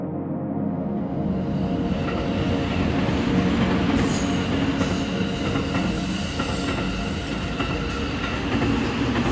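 A train rolls steadily along the rails on the way into Banaras, a dense continuous rumble with clattering wheels and high squealing tones, close and loud, with no talking.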